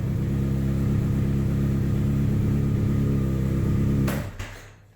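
A 2007-era Honda CBR600RR motorcycle engine runs at a steady, close idle, a loud low rumble that cuts off abruptly near the end, leaving quiet.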